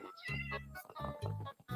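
Several cats meow repeatedly inside a creeper in the Minecraft video game, a close, clear string of meows with short pauses between them.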